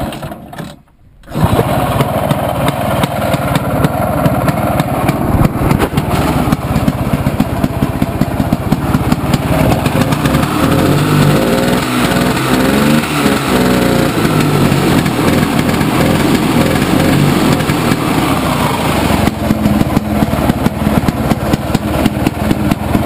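A 1969 Ski-Doo 250 snowmobile engine catches after a brief pause and keeps running, a loud, buzzy, rapid small-engine drone that stays steady throughout.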